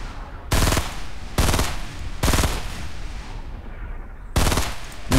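Loud bursts of automatic gunfire from a Fortnite Battle Royale match, four separate volleys about a second long each, with quieter ambient game sound between them and no talking.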